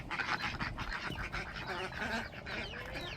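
Ducks quack in a noisy cluster, overlapping calls close by, with birds chirping and a constant outdoor rumble underneath.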